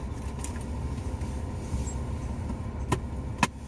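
Cars drive in and out of a busy Co-op car park in Stirling, Scotland: a steady engine hum from nearby vehicles, with a couple of sharp clicks or knocks near the end.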